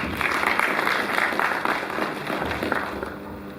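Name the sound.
applause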